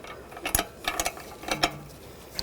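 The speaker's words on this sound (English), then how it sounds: "using a 10mm wrench on the bleeder screw" A 10mm wrench works a brake caliper bleeder screw on a 2015-2020 Cadillac Escalade, producing faint, sparse metallic ticks and clicks close by against a quiet background.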